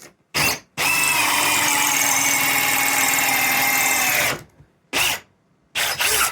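A Milwaukee cordless drill runs at high speed in plain drill mode, giving a loud, steady whine for about three and a half seconds after a short burst, then two brief triggers near the end.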